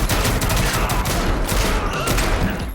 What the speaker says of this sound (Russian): Вместо 1000 слов Джон Ву использует 1000 выстрелов